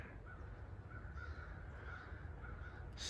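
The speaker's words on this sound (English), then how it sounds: "Crows are up here pecking on this old dead tree up here." Distant crows caw in a repeated series of harsh calls, faint against steady outdoor background noise beside an old dead tree on a greenbelt in Kingsport, Tennessee.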